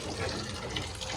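Tap water running into a sink, a steady close hiss and splash that holds evenly throughout the brief moment with no talking.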